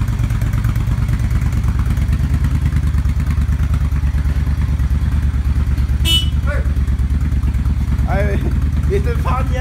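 Suzuki Intruder 1400 motorcycle with a Vance and Hines exhaust idling cold after startup, a loud steady throbbing engine close by, with voices talking over it near the end.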